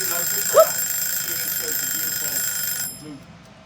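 A kitchen timer rings with a continuous high metallic trill for about three seconds, then cuts off, while a voice talks faintly beneath it.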